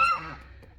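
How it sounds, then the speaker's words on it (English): A mother duck in a farm bird enclosure gives one short nasal honking call close by, fading quickly into quiet. "There comes another little mama duck."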